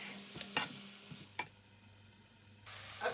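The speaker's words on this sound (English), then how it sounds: "I'm going to throw in the prawns." Prawns sizzling in a hot pan while a courgetti spaghetti dish cooks, a steady low fry broken by a few sharp stirring clatters and scrapes, close and fairly quiet, with no talking.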